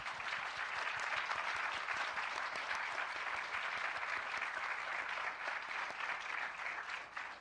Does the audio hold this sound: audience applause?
yes